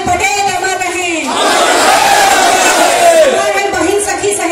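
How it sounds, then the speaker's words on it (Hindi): A crowd at a unity march rally shouts a slogan in honour of Sardar Vallabhbhai Patel, a loud massed roar of voices swelling and holding together after a single lead voice. "एक बार मेरे साथ जोरदार नारा लगाएंगे, सरदार वल्लभ भाई पटेल अमर रहें।"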